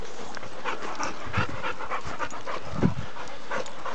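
Big pack of dogs on a run panting hard and steadily close up, a dense layer of rapid breaths with a couple of brief thumps, no voices.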